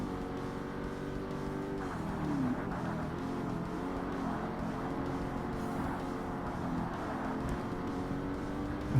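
Engines of American muscle race cars, a Stingray among them, roar steadily and loudly in Forza Motorsport as one car shifts gear early on and keeps pulling, a continuous close-up drone with no talk.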